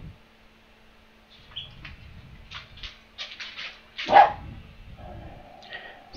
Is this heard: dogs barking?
yes